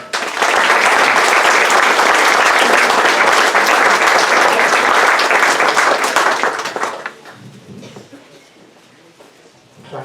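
Loud, sustained audience applause and clapping greet a speaker, Ed Tasca, at an Open Circle talk, holding steady for about seven seconds before dropping off sharply to quiet room tone.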